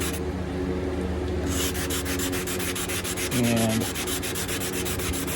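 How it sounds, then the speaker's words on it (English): Fiberglass on a wooden bow limb is sanded away during tillering: a continuous close rasp that turns into quick, even back-and-forth strokes, loud and alone. "I'm working the fiberglass away."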